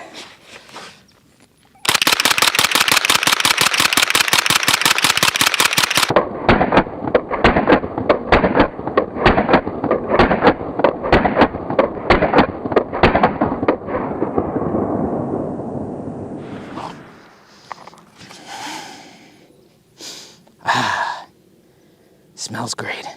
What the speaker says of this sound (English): Figured we make it a little bit warmer, and we do a little mag dump from the hip